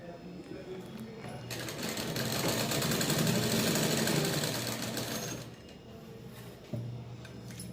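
A sewing machine runs as a pajama is stitched, a continuous mechanical whir rising and falling over several seconds, heard close with a voice speaking alongside.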